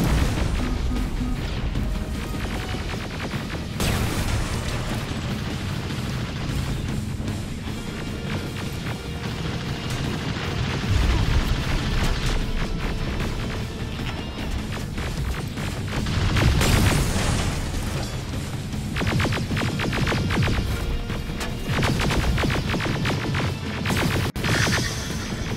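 Heavy booms and crashing blasts from bombs going off in the shooter game Terminator Resistance, with a dense, continuous roar of explosions and debris filling the whole stretch and loud surges partway through.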